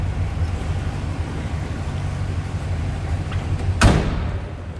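Door of a 1967 Pontiac Catalina convertible shutting once with a single solid thud near the end, heard close over a steady low background rumble.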